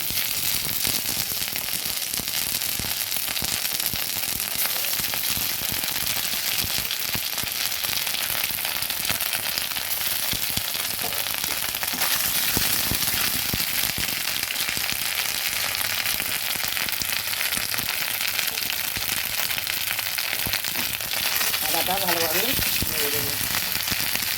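Panch phoron spices and ginger paste fry in hot oil in a pan for a jackfruit curry, giving a loud, steady, dense sizzle that runs unbroken throughout.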